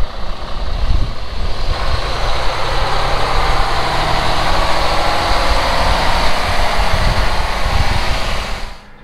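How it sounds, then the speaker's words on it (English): A loud, steady tractor engine idles close by during harvest, rumbling evenly the whole time before cutting off at the very end. No voices. "Got the tractor full of fuel, McFarland, and the tractor's all greased up"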